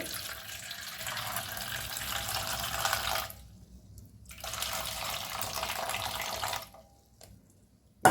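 Water drains off washed flattened rice (poha) in two steady pouring streams separated by a brief pause, then trailing off into quiet.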